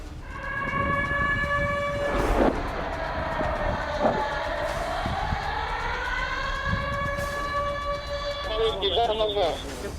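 An air raid siren wails, rising and falling in long sweeping tones over a rumbling, clattering background, with a few sharp bangs mixed in.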